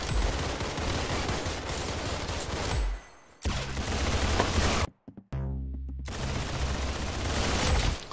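A sustained, dense barrage of automatic weapon fire in a Roblox first-person shooter game, loud and nearly continuous, broken by two short silent pauses.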